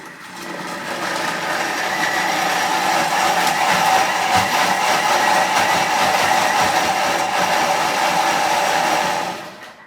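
Glass blender with a glass bowl whirring as it purees chicken bone broth, a loud, steady motor whine that holds for nearly ten seconds before cutting off at the end.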